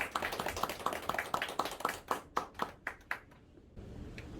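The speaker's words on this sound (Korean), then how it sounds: "우리 서로 환영의 박수." A congregation at a youth church service claps together in welcome, sharp hand claps in a quick, fairly even rhythm that gradually thin out and stop, leaving a quiet room.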